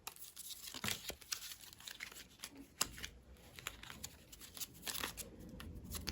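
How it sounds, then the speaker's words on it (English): Tarot cards being shuffled and handled up close, giving soft papery riffles and slaps in irregular bursts with no talking. "let me just get some cards out"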